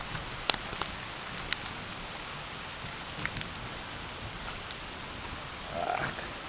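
Steady soft rain hiss with a few sharp drip taps at Chahuatlán, fairly quiet and continuous, no talking.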